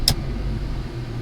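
A Ford Mustang Fox body that had sat for months drives down the road. Its engine gives a low, steady rumble for just over a second, with a sharp click at the start.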